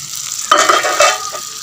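Ridge gourd and chana dal stirred in a hot pan, with a spoon scraping and clinking against the metal over a soft background sizzle, close and clear with no talking.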